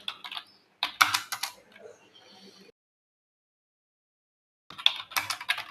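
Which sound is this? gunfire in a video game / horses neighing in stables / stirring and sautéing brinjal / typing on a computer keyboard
typing on a computer keyboard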